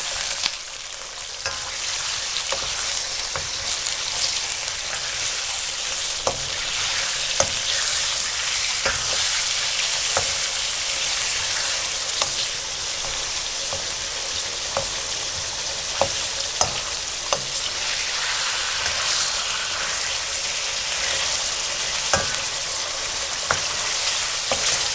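Chicken sizzles steadily in a hot karahi with chutney masala at a Rawalpindi street food stall, a dense continuous frying hiss with occasional sharper pops and crackles throughout.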